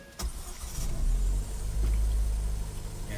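A car engine cranks and catches in a repair shop, then settles into a steady, loud low idle right up close.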